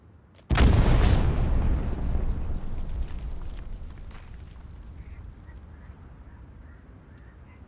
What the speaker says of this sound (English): Another bombing run called into 4th over here to the backside.